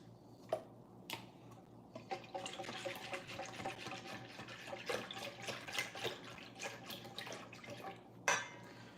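Buttermilk is poured into small fancy glasses, a soft steady liquid trickle with clinks and clatter of glassware, quiet and close, with no talking.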